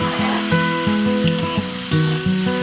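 Chopped ginger, cumin, coriander and black pepper powder stirred in a sizzling pan for a golden fish curry, a loud frying hiss under a recurring low tonal hum, no speech.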